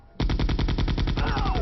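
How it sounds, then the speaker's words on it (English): Rapid automatic gunfire in Resident Evil 2 erupts suddenly and rattles on at a steady fast rhythm, loud and close, with a faint rising tone appearing late in the burst. "That was a gunshot."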